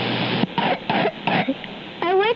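A person gives a little cough or throat-clear, a few short bursts at close range, closing with a brief higher vocal sound; no one speaks.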